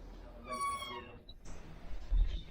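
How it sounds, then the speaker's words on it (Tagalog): A cat meows in a building in the Philippines, a few drawn-out, wavering cries close by over low room noise, with some voices and bumps around them. "May bantay sila dito. Yung pusa."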